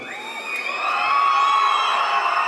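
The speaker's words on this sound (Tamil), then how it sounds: "உங்களுடைய கைத்தட்டலுக்கும் உங்களுடைய இந்த சவுண்டு இந்த விசில் சத்தத்துக்கும் தான்" A crowd at a Tamil fan event cheers, whoops and whistles continuously, a steady roar of many voices with shrill whistle tones rising over it throughout.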